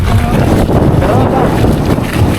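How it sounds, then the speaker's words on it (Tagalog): Strong gusting wind on a beach at De Marvic Beach Resort in Lobo, Batangas, loudly buffeting the microphone in a constant rumbling roar that stays heavy from start to finish. "Lakas ka lang hangin eh."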